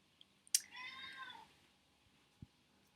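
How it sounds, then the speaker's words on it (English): A ginger cat gives a single drawn-out meow, close and fairly quiet, with a few soft knocks around it and a low thump afterward. "Look at the girl cat."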